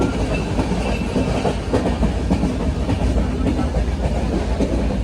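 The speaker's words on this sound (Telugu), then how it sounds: "ట్రైన్ వచ్చి వెంకటాద్రి ఎక్స్ప్రెస్ ట్రైన్ ఇది." Venkatadri Express passenger train running between Katpadi and Tirupati, a loud, steady rumble with rhythmic clickety-clack of wheels over rail joints, heard from inside a coach.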